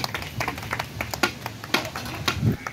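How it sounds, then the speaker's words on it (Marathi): Children clap for two schoolboys, Ansh and Raju, at an outdoor bagless-school soil activity: a brief burst of scattered, uneven claps with small hands, fairly close, with no talk over them. "हे आपण या अंशसाठी टाळ्या वाजूया रे"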